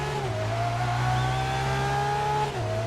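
A race car in the racing game Grid 2019 holds a steady engine drone close up, with its pitch stepping down twice as it brakes and downshifts through semiautomatic gear changes.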